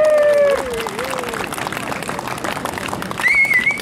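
An audience at an anti-nuclear rally in the Tokyo area applauds, a dense wash of clapping that swells at the start and again near the end, with a whistling voice-like tone and talk mixed in.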